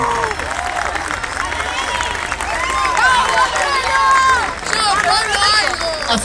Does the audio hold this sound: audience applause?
yes